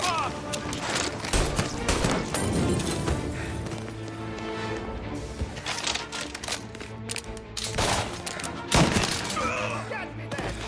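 Gunfire in the video game Mafia during a final-mission shootout: rapid bursts of shots crack and rattle repeatedly, loud and close, mixed with thumps and shouting voices throughout.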